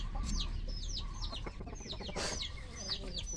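Chickens cluck and chatter close by in a steady, busy stream, with a few sharper squawks and faint background noise.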